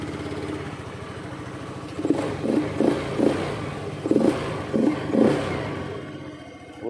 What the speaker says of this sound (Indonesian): Di sini pada bagian mesin sudah hidup.